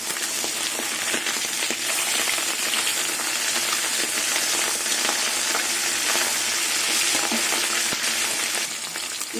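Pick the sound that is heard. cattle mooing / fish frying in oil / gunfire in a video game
fish frying in oil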